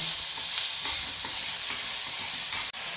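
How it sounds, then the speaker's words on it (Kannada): Onions frying in half a spoon of oil over a medium flame, a continuous close, bright sizzle and hiss with faint stirring scrapes and one brief dropout near the end, no speech. "ಒಂದು ಅರ್ಧ ಸ್ಪೂನ್ ಎಣ್ಣೆ ಬಿಟ್ಟು ಮೀಡಿಯಂ ಫ್ಲೇಮಲ್ಲಿ ಈರುಳ್ಳಿನ ಫ್ರೈ ಮಾಡ್ಕೊಳ್ಳೋಣ"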